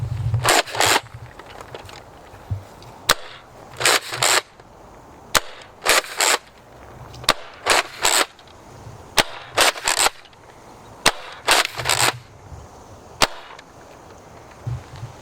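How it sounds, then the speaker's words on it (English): A Nerf Rival Atlas XVI-1200 blaster fires foam rounds in sharp, loud snapping bursts, mostly pairs and single shots spaced about a second or two apart, close to the listener with no talk. "So now let's test this blaster. All right, so we have 24 rounds here. We're gonna be first just doing basic shooting."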